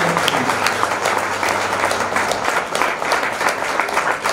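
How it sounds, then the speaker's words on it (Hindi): A stage audience gives sustained, loud applause to welcome a guest, with thick, steady clapping and a low hum underneath for the first half. "हम तालियों के साथ उनका स्वागत करते हैं।"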